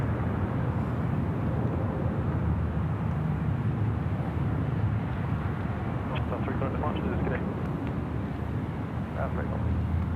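A Boeing 787 airliner at Sydney Airport makes a steady, heavy jet roar that fills the whole stretch, with someone talking over it.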